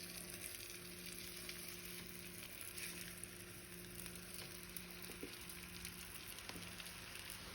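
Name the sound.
tortilla frying in a pan for quesabirria tacos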